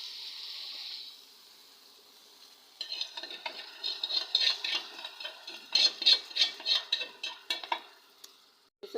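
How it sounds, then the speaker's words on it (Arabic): Chopped onion and chicken liver frying in ghee in a home kitchen pan, a soft sizzle that swells into busy crackling and stirring scrapes after a quiet start. "حمرنا البصلة والكبدة والأنثى"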